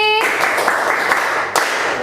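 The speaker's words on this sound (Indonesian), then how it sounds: "Terima kasih untuk kelompok Abu Nawas. Beri tepuk tangan dulu." Applause in a classroom for a student group after their presentation, a short burst of clapping from several people that starts right after a voice and holds steady for under two seconds.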